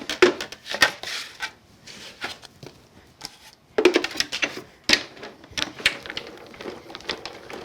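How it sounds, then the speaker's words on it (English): A die-cutting machine runs a detailed die for a card with no outer cutting edge, giving irregular mechanical clicks, knocks and crunching taps at close range, with no talking. "We're just going to cut the detailed die here."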